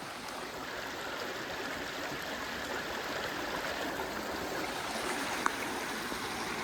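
A steady, even rush of stream water flows close by throughout, broad and continuous with no talking over it and only one brief faint tick near the end.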